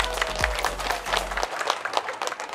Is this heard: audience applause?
yes